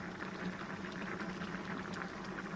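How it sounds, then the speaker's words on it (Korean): Cheonggukjang stew with green chili and scallion simmering in a pot, a soft, steady bubbling and gentle popping, faint and close with no voices. "자, 이렇게 해서 한 소끔만 끓이시면 되는데"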